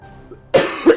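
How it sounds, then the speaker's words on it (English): A person coughs, one sudden harsh burst followed by a second smaller cough, close to the microphone after a near-silent moment. "There's too many coughs."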